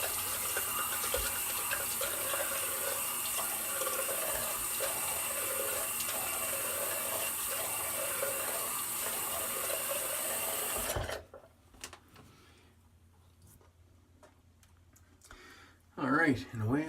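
Tap water runs steadily and loudly into a sink for about eleven seconds while wetting the face before a shave with Proraso Red, then cuts off, leaving quiet handling noises and a brief voice at the end.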